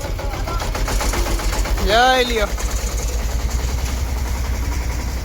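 A tractor engine runs steadily on a village lane, a low continuous chug under loud nearby voices and a brief tonal sound midway.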